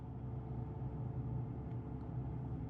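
A Fox body Ford Mustang with a 5.0 engine growls as a low, steady rumble, fairly quiet and somewhat distant, holding even throughout without voices.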